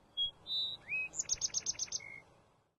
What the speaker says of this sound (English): listening to the sweet chirping of sparrows